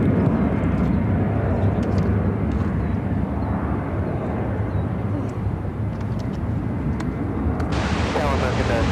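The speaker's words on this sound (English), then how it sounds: "This is American Airlines 2813 taking off to Washington Reagan National on the A319." An American Airlines Airbus A319 takes off from Chicago O'Hare for Washington Reagan National with a loud, rumbling engine roar that holds steady and then shifts near the end, while a person talks over it.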